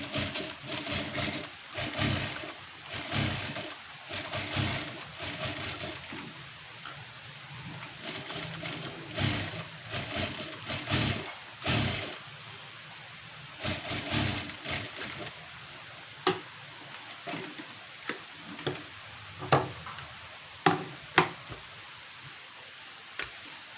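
A sewing machine stitches lace onto a blouse, running in close, loud rhythmic bursts of rapid needle clatter separated by pauses and growing more clipped and intermittent toward the end.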